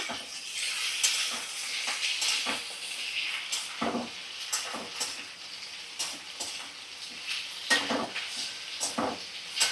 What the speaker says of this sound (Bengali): মিডিয়াম ফ্লেমে রেখে 3-4 মিনিট ভালো করে ভাজা করে নিচ্ছি।